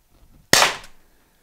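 An LTL Alpha 1.5 PepperBall launcher fires once, a single sharp, loud pop close by with a brief airy decay, otherwise near silence.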